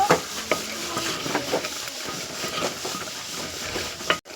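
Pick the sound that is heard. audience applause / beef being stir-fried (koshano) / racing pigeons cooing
beef being stir-fried (koshano)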